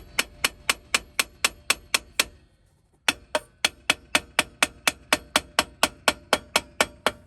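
A hammer taps a broken wheel stud on a Toyota 4Runner in a fast, even series of sharp metallic strikes, close and loud, with a brief pause before the tapping resumes at the same steady pace.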